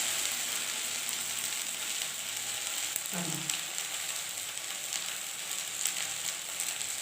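Okra frying in a pan for a home-cooked lunch, a steady broadband sizzle running throughout, with a brief low stir or movement near the middle and no voices.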